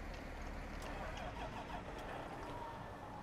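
A tractor engine on an Argentine farm during sunflower sowing runs loud and close, a steady low rumble lasting the whole stretch with no pause.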